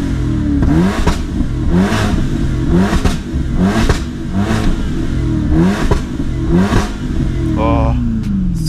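BMW 745i E65 V8 with a cut-off valve installed, revving hard against the rev limiter in regular bursts roughly once a second, loud and close with a brief voice near the end.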